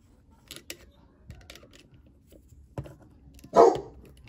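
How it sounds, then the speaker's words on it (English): A dog barks indoors during a spur gear upgrade on an RDX, giving a few scattered short barks that end in one louder bark near the close, with quiet handling noises between them. "Oh, and there goes my dog."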